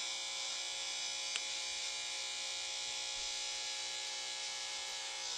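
A hair clipper buzzes steadily and close up while tapering a light Caesar cut behind the ear, a constant electric drone with one brief click and no talking.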